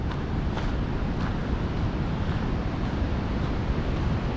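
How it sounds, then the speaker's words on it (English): A raging river rushes beside a waterfall outdoors in the western United States, producing a loud, steady broadband roar of water that continues without a break and carries no voices. "Whatever river it is, it's raging. Probably hear it."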